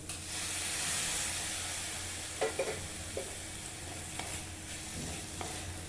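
Ginger, garlic and green chilli paste frying in a pan gives a soft, steady sizzle and hiss with a few distinct spoon scrapes and taps as it is stirred, fairly faint and close.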